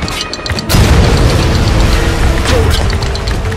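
A heavy mortar blast in a war video game erupts after a brief lull, a loud booming roar that rumbles on and fills the space for several seconds, with faint voices beneath.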